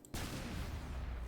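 Gunshot fired at gasoline in the Ultrakill video game: a brief quiet, then a sudden loud blast that holds as a dense, roaring rumble to the end.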